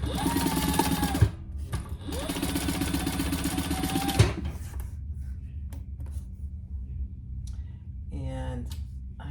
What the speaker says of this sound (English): we're gonna sew across the top with the seam allowance in the